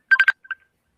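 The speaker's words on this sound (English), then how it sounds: "I think it's his like ringtone going off or something." A phone goes off with a short electronic ringtone: three quick bright beeps and then two fainter ones, heard alone and close.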